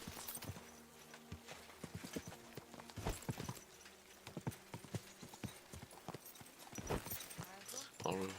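Clip-clopping horse hooves in the medieval video game Kingdom Come: Deliverance 2, a steady run of close, loud hoofbeats with a whinny and game sounds mixed in.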